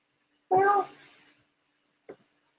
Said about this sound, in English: The cat. Look, cat.